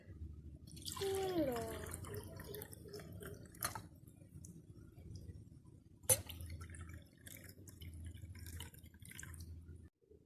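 Water is poured into a glass of freshly squeezed lemon juice, with a rising filling tone early on, then quieter trickling and a couple of sharp clinks against a soft background.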